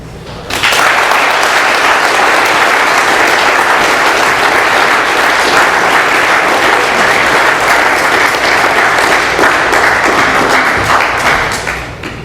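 Sustained applause from an AA meeting audience in Doylestown, PA, loud and dense, rising quickly at the start and holding steady for about eleven seconds before tapering slightly at the end.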